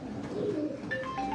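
Soft, low cooing of pigeons at a pigeon-flying tournament blends with a murmur of background noise, with a few thin higher whistles or calls near the end.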